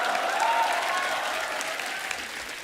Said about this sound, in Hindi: आप सबकी जोरदार तालियां, बहुत बहुत स्वागत है आपका।